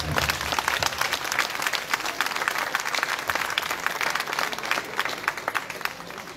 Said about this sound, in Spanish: Así que para recibir nuevamente un aplauso.